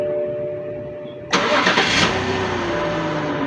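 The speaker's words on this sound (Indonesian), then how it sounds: "Coba ini mesin nyalain aja Mas." A 2005 BMW 520i E60 engine cranks and catches abruptly after a quiet cabin hum, flaring briefly before dropping to a steady idle, heard close from inside the car.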